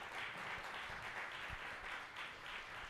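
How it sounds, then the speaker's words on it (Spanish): Church congregation applause during a Spanish-language service, steady continuous clapping from many hands with a few louder individual claps, sounding somewhat distant and even throughout. "Un aplauso, por favor."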